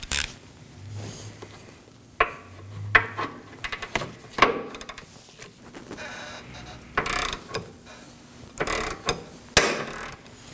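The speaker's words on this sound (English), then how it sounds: "On the back side there is an 18mm nut holding it down, so I'm going to use a wrench to secure that." A wrench turns on the 18mm nut of a 2013-2019 Nissan Sentra front lower control arm bolt, giving close, irregular metallic clicks and ratcheting bursts with brief pauses between turns.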